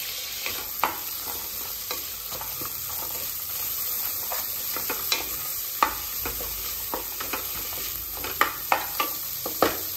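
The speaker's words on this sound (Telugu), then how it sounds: "కలుపుకుందాం" Carrot pieces, mint and coriander stirred in a pot for bagara rice, with steady sizzling under scattered scraping spoon strokes that grow sharper and more frequent toward the end; no voices.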